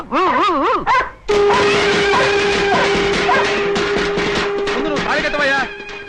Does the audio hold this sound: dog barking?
yes